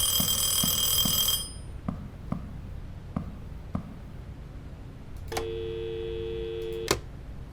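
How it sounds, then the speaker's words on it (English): An electronic phone ring cuts off early, followed by a few sharp ticks. A second, lower-pitched ring then sounds briefly near the end against a quiet background, with no talking. "Why is the phone ringing?"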